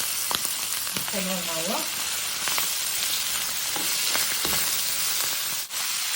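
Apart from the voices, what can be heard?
shrimp frying in a pan for a filling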